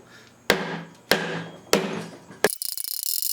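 Four hard, evenly spaced chopping blows from a Harbor Freight tool strike close by, each a sharp crack that rings out, followed by a quick rattling clatter.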